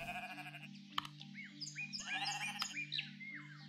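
Sheep in the video game Equilinox bleat several times in a row, the calls wavering and fairly close, over a steady game music drone and scattered bird chirps.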